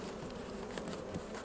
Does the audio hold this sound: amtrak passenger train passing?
no